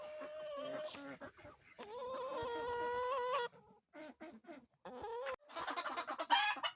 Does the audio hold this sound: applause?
no